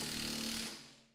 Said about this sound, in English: Let's see if we can get it to move with just the impact wrench.